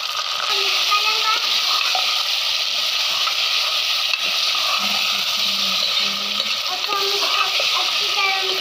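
Chicken and potato gravy is stirred in a cooking pot with a steady sizzle and wet scraping that runs throughout, with brief soft clatters along the way.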